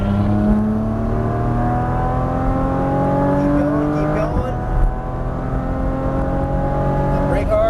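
A Porsche Cayman GTS on a race track, its engine note climbing steadily through the revs, briefly easing off, then pulling up again, with an instructor's voice talking over it.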